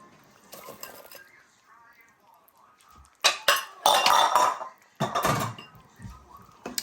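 Fried onions, peppers and bacon being stirred into a pot of simmering carne en su jugo: a quiet start, then loud clattering scrapes and clinks of a spoon against the pot in a few bursts, with no speech.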